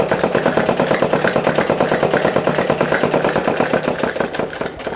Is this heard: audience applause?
no